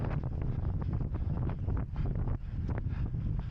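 Wind buffets the microphone during an outdoor 3k race, a loud, continuous low rumble with gusty fluctuations and no voices.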